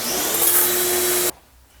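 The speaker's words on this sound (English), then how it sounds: "Consistency is key when you make the exact same darn pressure washer." Sun Joe electric pressure washer running with a loud steady motor whine and spraying hiss, close by, then cutting off abruptly to near silence.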